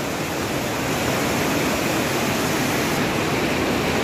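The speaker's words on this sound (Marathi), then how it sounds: "असं जोरात वाहणारं पाणी." River water rushing hard down from a mountain at Parshuram Kund in Arunachal Pradesh, a dense, steady roar that fills the air without a break, loud and close.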